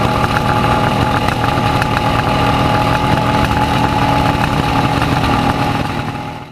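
A 1970s H2 superbike engine runs loud and close, a dense, raspy, buzzing note with a steady crackling rhythm, holding constant before fading slightly at the end.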